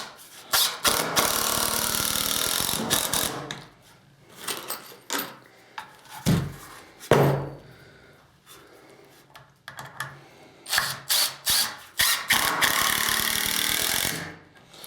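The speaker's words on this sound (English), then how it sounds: "We'll put a couple more screws in there just to prove it wasn't a fluke" A Ridgid 18V cordless drill driver drives screws into wood in repeated bursts, the motor whirring in spurts separated by brief pauses, close and fairly loud.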